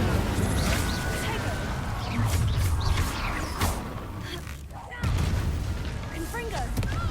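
Incendio fire spell cast in Hogwarts Legacy: loud whooshing, crackling blasts and booming impacts of combat, dense and continuous, with a brief dip before another burst of noise.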